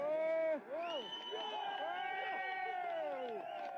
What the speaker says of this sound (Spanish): se escucha una mezcla de abucheos y de aplausos